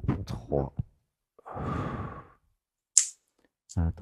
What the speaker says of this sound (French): Alors on va faire une grande respiration ensemble.